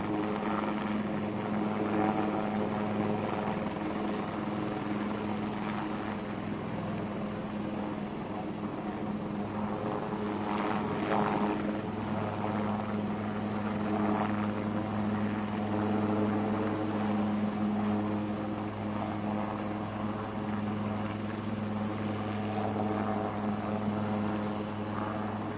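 An ALH naval helicopter flies over a harbor during a Navy Week display, its rotor and engine drone loud and continuous throughout with a steady tonal hum and constant broadband noise.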